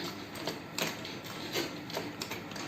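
Vintage Butterfly sewing machine stitching, a quiet mechanical clatter of repeated ticking beats in an uneven rhythm with a soft whir between them, fairly close.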